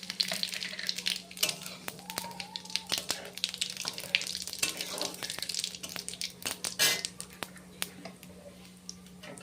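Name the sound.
bay leaf and whole cumin sizzling in hot frying oil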